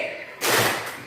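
A class of pupils gives a single sharp collective clap as a greeting in a classroom, one loud burst after a quiet moment that fades quickly.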